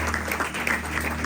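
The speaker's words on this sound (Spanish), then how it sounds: "Eso merecía un aplauso a él." Church congregation applauding during a Spanish-language sermon, a brief, steady wash of clapping heard at moderate level with no one speaking over it.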